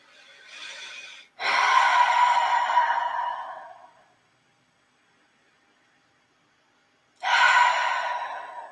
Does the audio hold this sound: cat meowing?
no